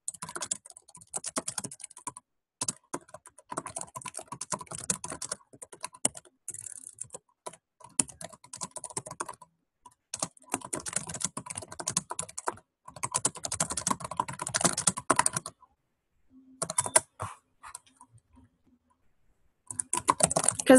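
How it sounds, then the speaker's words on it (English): Steady keyboard typing, fast and clicky, in bursts with short pauses, close up and fairly loud, with no talking. "Sorry if that typing's loud."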